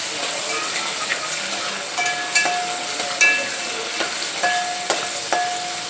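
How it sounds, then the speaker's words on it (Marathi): Two large slit green chillies fry in hot oil in a pan, a continuous crackling sizzle close up, punctuated by repeated sharp spits and utensil taps as they are stirred, with no voices. "तेलामध्ये मिरची चांगली फ्राय होऊ द्यायची."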